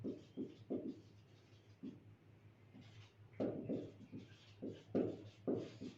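Chalk or a marker tapping and scratching across a board as a maths question on ratios is written out, in short, soft, irregular strokes.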